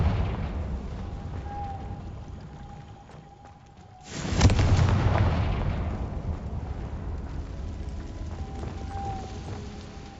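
The Confringo fire spell goes off in the video game Hogwarts Legacy, a single loud booming explosion that cuts through a quiet ambient hum and then rumbles and fades over several seconds.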